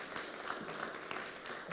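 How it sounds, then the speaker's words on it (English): An audience at a stakeholder engagement forum applauds, a faint, steady wash of clapping that lasts the whole short stretch with no clear voices. "Another round of applause,"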